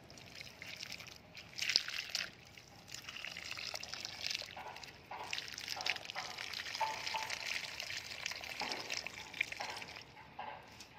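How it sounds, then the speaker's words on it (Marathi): Water is poured into a potted snake plant, giving a soft, uneven trickle and slosh into soil that rises and falls over several seconds, faint and close. "पाणी घालायचं आहे।"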